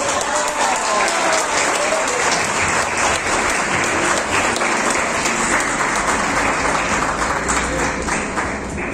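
Loud, sustained applause from a large crowd, dense and continuous clapping filling the whole stretch without letting up.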